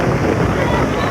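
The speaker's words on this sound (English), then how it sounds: "Here comes the wind and the rain again. Wind really gusting now in the face of the Pirates." Gusting wind with rain buffeting the microphone at an outdoor 1986 college soccer final, a loud, constant roaring rumble that fills the whole moment.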